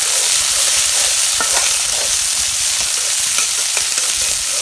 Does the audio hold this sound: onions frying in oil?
yes